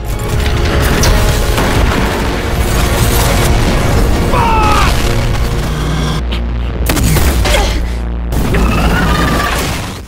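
Heavy, sustained booming missile explosions roll on for several seconds in an animated film, deep and loud, with a brief break before another blast surges back.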